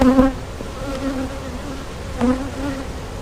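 Honey bees buzz steadily at an open hive frame, a close, continuous drone with rising and falling whines as individual bees pass near, with no talking.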